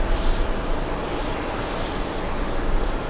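A Delta Boeing 767-400 delivered in 2000, arriving at JFK from Nice. Its jet engines make a loud, steady broadband roar that holds evenly throughout, close by and with no talk over it.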